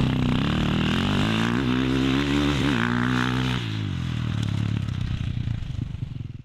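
A motocross motorcycle engine revs loudly and close, its pitch climbing through several gears with brief dips at each shift, then easing off to a lower, rougher idle near the end.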